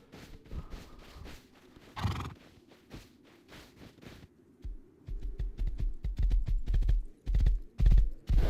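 A horse in the Rust video game gallops with rapid clip-clop hoofbeats that quicken and grow louder toward the end, broken by a brief whinny near the start, with no talking.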